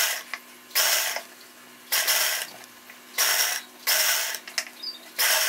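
Sewing machine stitching chudithar top fabric, with repeated bursts of rapid mechanical whirring separated by short pauses, loud and close with no talk.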